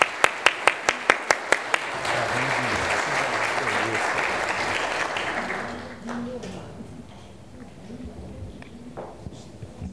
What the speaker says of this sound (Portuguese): E eu faço uma pausa, obviamente, para que todos possam aplaudir